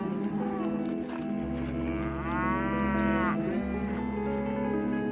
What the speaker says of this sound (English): Today we have 60 million cattle that are populating feedlots.